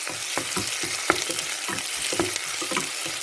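Small onions sizzling and crackling in a hot pan while being stirred for a chicken dish, a loud close hiss broken by quick rhythmic scraping strokes of the spoon, no voices.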